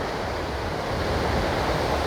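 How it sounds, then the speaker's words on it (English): Athirapally waterfall in Kerala pours down with great force, heard as a steady, dense roar of falling water that stays loud and unbroken, with no talking. "Just look at with what intensity the water is falling."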